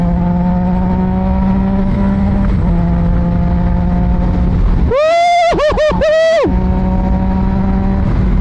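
A Triumph Trident 660 motorcycle with no quick shifter rumbles at low revs, then rises in a loud, close burst of rapid accelerating revs through gear changes before settling back to a steady drone.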